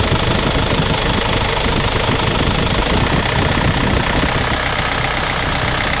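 A car engine runs loud and close just after a cold start, not yet warmed up, with a steady rough idle and a knocking undertone. The engine has covered about 300,000 km and puffs heavy breather vapour.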